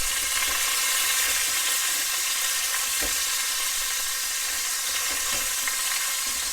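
Chicken pieces browning in a hot skillet for chicken greaves and rice, a steady loud sizzle and crackle of frying with occasional pops, no voices.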